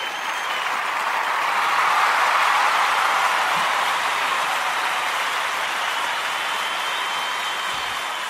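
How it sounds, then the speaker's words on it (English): An audience breaks into loud, sustained applause, a dense wash of clapping that swells slightly and then holds steady for several seconds with no voices over it. "give a big round of applause to"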